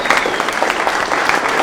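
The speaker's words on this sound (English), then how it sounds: "Everybody give Art one more round of applause." An audience gives a guest speaker a round of applause at a Sons of Liberty meeting, steady dense clapping from a room of people, close and sustained for the whole moment.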